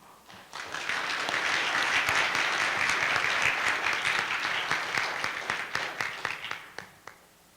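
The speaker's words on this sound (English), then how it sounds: "Y'all ain't got to clap for me." Congregation applauding a speaker at a church service marking the MLK 50th anniversary, a steady broad wash of many hands clapping that swells for several seconds, then thins into scattered claps and fades.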